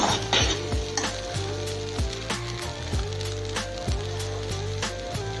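Moong dal added to a frying pan sizzles loudly and continuously, with rhythmic stirring scrapes and light spattering close by.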